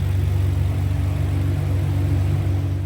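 Nissan GT-R with a 4.1L twin-turbo V6 idling after a cold start through a 4-inch valved exhaust, a steady, loud, deep rumble close by with no talking.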